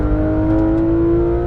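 A race car engine on a track drones loudly and steadily from inside the cockpit, a strong continuous tone under acceleration with no pause.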